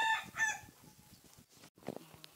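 Chickens and ducks in a farmyard scene from a video game give a few short, fairly quiet clucks and squawks in quick succession, followed by scattered soft rustles and knocks.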